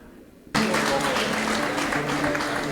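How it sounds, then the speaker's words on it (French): A Paris poetry-event audience bursts into loud applause after a brief quiet lead-in, the clapping sustained and dense with a tonal hum beneath and a few voices mixed in. "que je vous demande d'applaudir très fort"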